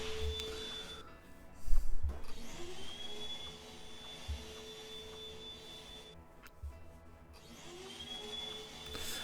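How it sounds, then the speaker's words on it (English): Vacuum cleaner machines in the video game The Last Floor, a steady high whine and motor hum that drops and restarts, with a few heavy thuds partway through, heard alone without speech. "these, I'm assuming, are vacuum cleaners."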